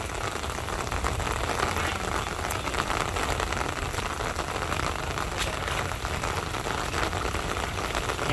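Steady rain falls outdoors around fish ponds during a fish transfer, a loud continuous hiss of drops on water and surfaces with no break.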